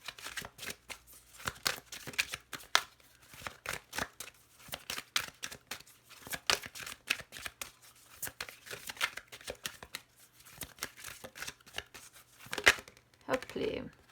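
Oracle cards are shuffled in a long run of crisp riffling and sliding bursts, close and irregular, with soft papery rustles between them.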